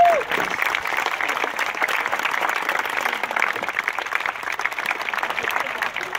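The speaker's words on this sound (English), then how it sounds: "please put your hands together for George Segetti" Steady audience applause fills the stadium at the 2016 Hawaii Open tennis final as a trophy presenter is introduced, dense continuous clapping holding at an even level throughout.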